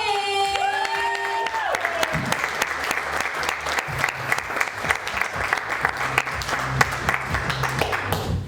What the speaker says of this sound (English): So without further ado, give a round of applause for Billy Boyd!